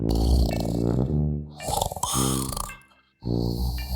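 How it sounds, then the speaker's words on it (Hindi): Loud, rough snoring from an animated character, in long drawn-out breaths, a throaty rumble with raspy snorts, close by and alone, with a brief quiet gap before it resumes. "थोड़ी ही देर बाद जोर जोर से खर्राटे की आवाज आती है।"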